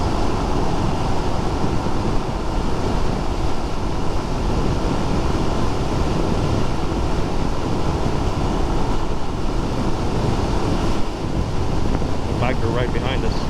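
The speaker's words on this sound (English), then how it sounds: "I don't know if you guys can hear the wind. It's pretty strong today." Strong wind buffets the microphone in a steady, loud roar while riding a 2022 Suzuki DRZ400SM supermoto, continuous throughout, with a voice briefly audible near the end.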